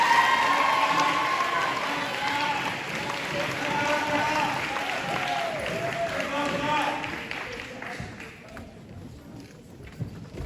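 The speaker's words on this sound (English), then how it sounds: "Please give a warm round of applause" Applause from the audience at a school sports banquet fills the hall, steady clapping going on for several seconds and then thinning out toward the end, with voices talking over it.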